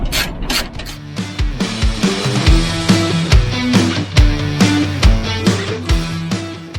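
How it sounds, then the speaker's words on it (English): A 13mm socket wrench ratchets out bolts on a Jeep JT sway bar bracket during a RockJock AntiRock rear sway bar install, giving close, repeated clicking and metallic clanks in a steady rhythm. "So now you take your 13mm socket and get these 2 bolts out."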